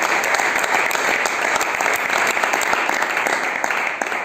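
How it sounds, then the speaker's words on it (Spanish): Church congregation applauding loudly and steadily, a dense wash of clapping that holds at full strength throughout with no voices on top. "Fuerte el aplauso, que es para Dios."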